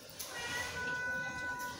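Kittens meow in a short, high, wavering call lasting over a second, close and fairly clear against a soft room hum.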